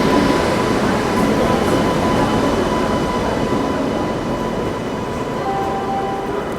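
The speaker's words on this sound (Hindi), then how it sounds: "यहाँ पर ये गई सिया राजधानी एक्सप्रेस अपनी बिलासपुर राजधानी एक्सप्रेस को ओवरटेक" An Indian Rajdhani Express rumbles past on the adjacent track while overtaking the Bilaspur Rajdhani Express. A loud, continuous roar of wheels and wind fills the whole stretch, close and steady, with a faint hum running underneath and no talk.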